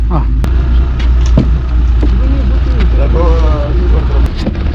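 A boat engine rumbles steadily as the boat pulls away from Imeko in South Sorong, Papua. The low drone runs throughout with wind buffeting, and a person talks over it.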